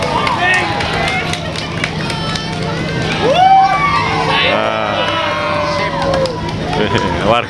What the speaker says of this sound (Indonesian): Warga itu tepuk tangan lor.